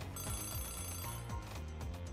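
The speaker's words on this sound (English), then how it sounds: "It's an alarm clock." An alarm clock enemy rings in Super Mario RPG: a steady electronic bell-like trill runs through the whole stretch, mixed with the game's looping music and its repeating bass figure.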